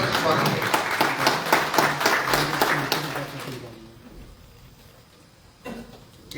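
Applause from an audience at a workshop welcomes a speaker, several seconds of fairly close, dense clapping that dies away into quiet room sound.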